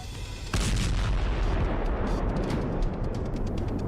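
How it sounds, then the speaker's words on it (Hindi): Deep, rumbling explosions from an Israeli air strike on Gaza, a heavy blast kicking in after a moment and rolling on as sustained booming roar with crackling, loud and continuous. "इजरायल ने एयर स्ट्राइक की।"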